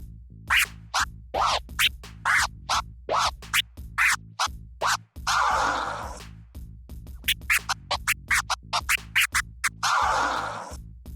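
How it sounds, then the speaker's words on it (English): A DJ cuts a chirp scratch on a vinyl record with the crossfader, a steady run of short, punchy chirping bursts in tight rhythm, interrupted twice by longer, smeared whooshing record sweeps, loud and close with no talk. "At the intermediate level of the chirp scratch, what you can do is play around with the tones of each of the forward and backward"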